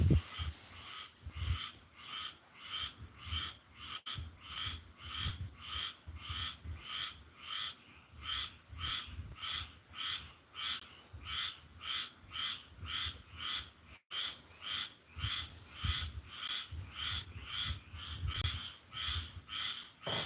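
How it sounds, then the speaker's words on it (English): Frogs croak at night in a fast, regular pulsing chorus of rapid repeated calls, moderately distant and fairly faint, running continuously for the whole stretch with no voices over it. "Frogs driving me nuts."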